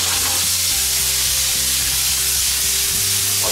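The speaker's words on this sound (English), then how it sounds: "Our potatoes are browning nicely." Potatoes brown in a hot pan with a loud, steady sizzle and crackle of frying, joined by a constant low hum, while green beans cook alongside for a pan-roasted venison backstrap dinner; no one speaks.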